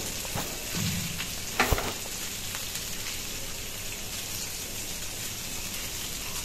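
Fish fries in a pan beside a pot of rice on the stove, a steady, close crackling sizzle throughout with a brief louder clink or stir partway through.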